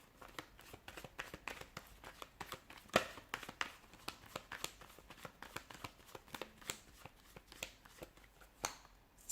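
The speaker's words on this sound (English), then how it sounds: "give the cards a shuffle and begin" Tarot cards shuffled by hand, a rapid run of crisp riffling and flicking snaps, close and fairly quiet, with no speech.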